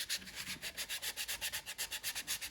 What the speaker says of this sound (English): go back in and spend some time sanding and smoothing things up